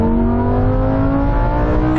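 A Lamborghini Sterrato and a Porsche 911 Dakar accelerate hard side by side in a rolling race from 50 mph, a loud, steady, rising engine drone with rich harmonics filling the whole clip, no talking.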